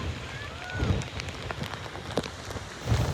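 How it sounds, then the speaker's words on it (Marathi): A downpour at Pirwadi beach in Uran near Mumbai sends a continuous, close pattering of raindrops, with brief louder surges near the start and end. "पाऊस असल्याबद्दल पाऊस फुल चालू आहे इथं."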